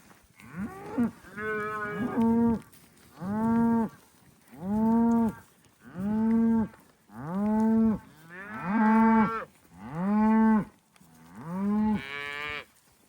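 A desert ranch cow moos again and again, about nine long, loud, low calls spaced evenly with short pauses between them, close by and with no other sound.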